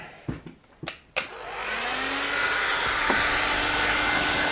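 A heat gun blows hot air in a steady, loud, broadband rush that starts after a few clicks and handling knocks, with a faint rising whine underneath, while work goes on inside a box fitted with a Milwaukee M18 FPD drill.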